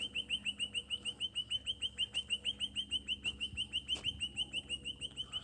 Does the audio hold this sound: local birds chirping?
yes